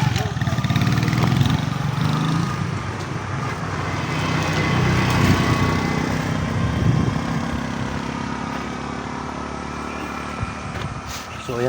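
Steady engine drone from a motorbike being ridden, with wind and road rumble throughout and a brief voice near the start.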